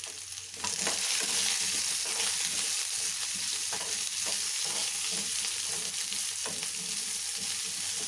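Onions fry in a pan for a potato and chickpea sambar, a dense, steady sizzle close by with faint stirring scrapes. It starts slightly quieter, then holds loud and even for several seconds with no talk.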